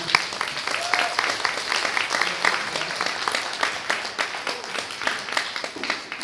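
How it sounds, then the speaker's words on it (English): Applause from a comedy training show audience as the comics are welcomed, steady and moderately loud, with dense overlapping claps, a few distinct louder claps, and faint voices now and then. "So let's give them a round of applause."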